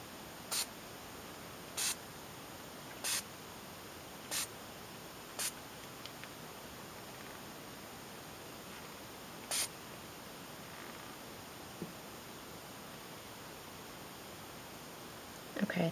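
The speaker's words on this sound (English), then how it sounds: "next I'm going to use English Ivy Tattered Angels Glimmer Mist." Tattered Angels Glimmer Mist in English Ivy is sprayed in short, sharp bursts onto embossed chipboard during a papercraft session, about seven evenly spaced spritzes over a quiet, hissy background.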